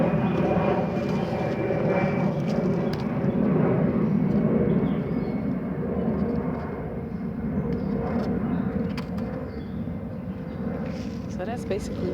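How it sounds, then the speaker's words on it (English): An airplane passes over a city as a steady, broad engine drone that holds for about twelve seconds, loud and unbroken. "okay, that's an airplane."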